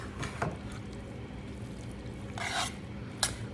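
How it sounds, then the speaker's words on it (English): Cauliflower rice being stirred and mixed in a pan, a soft scraping, rasping texture with a few brighter scrapes near the end, fairly quiet and close with no talking. "I'm just gonna add this cauliflower rice in and just mix it together like we would rice"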